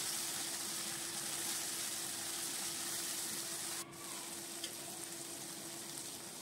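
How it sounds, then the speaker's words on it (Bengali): Boiled tomatoes fry in hot oil for a brinjal dish, a steady close, loud sizzle running throughout with a brief dip partway and a faint clink, no voices. "টমেটোটা তেলে কিছুক্ষণ ভাজতে হবে যাতে গলে যায় ভালো করে একদম।"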